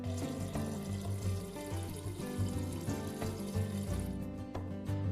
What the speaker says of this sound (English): Press and release the water dispenser paddle as needed to dispense water to the 1 cup fill line.